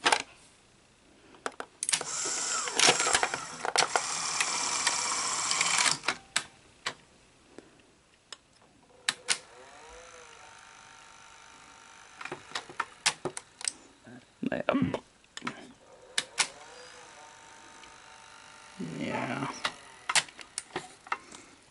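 A PAL Betamax VCR struggling to rewind a cassette, with irregular mechanical ticking, clicks and whirring bursts that stop and start, and someone talking intermittently over it.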